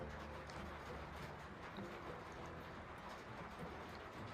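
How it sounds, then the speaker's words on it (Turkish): Steady rain pattering continuously at a house in Urla, İzmir, Turkey, a dense even hiss with occasional louder drops, no voices. "Bu arada yağmur başladı. Şu yağmurun sesini dinletmek istiyorum size."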